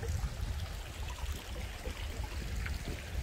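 A mountain stream flows beside a rural spring path, a soft continuous rushing and trickling of water, fairly quiet and steady throughout with no voices.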